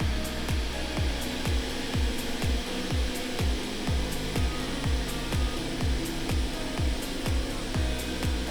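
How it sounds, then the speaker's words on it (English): A heat gun blows steadily close by, warming the adhesive on the back cover of an Apple Watch Series 4, a continuous airy whoosh with a repeating low mechanical pulse running underneath. "We'll heat it up a little bit more to get that adhesive"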